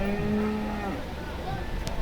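Cattle lowing at the Erode cattle market, where buffaloes are tethered, with a long drawn-out moo near the start, then fainter calls under a busy outdoor crowd murmur.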